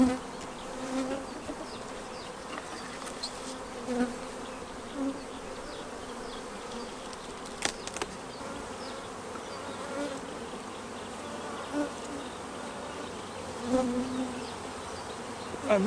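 A honeybee colony hums steadily as the brood box of a hive is opened during queen rearing, with a dense, constant drone of many bees close by and occasional louder passes of individual bees.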